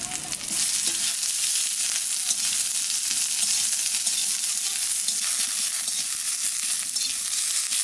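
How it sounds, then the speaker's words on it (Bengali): Green chilies, dried chilies, chopped garlic and onion frying in hot oil in a pan, a loud continuous crackling sizzle close by, with occasional stirring noises and no talk. "লঙ্কা, রসুন, পেঁয়াজ সবকিছু ভাজা ভাজা হয়ে গেছে।"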